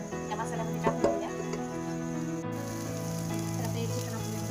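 Pressure-cooked chicken tipped into hot masala in a pan, a couple of soft knocks and a splash, then a steady sizzling hiss that continues close and moderately loud.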